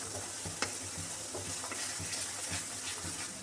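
Onion paste frying in oil with dried chilli and bay leaf for a Bengali katla fish kalia: a steady, close sizzle with rhythmic stirring scrapes and a few sharp clicks, no talk.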